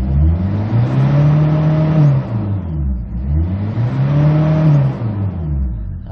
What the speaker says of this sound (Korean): 4000rpm 이상 고RPM으로 무난하게 잘 올라가는 그런 모습 보이고 있습니다.